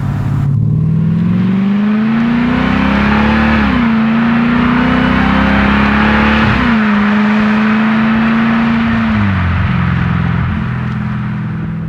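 A 2021 Dodge Durango SRT Hellcat engine drones loud and steady while driving, its note rising through the revs and dropping sharply at each upshift, over constant road and wind noise.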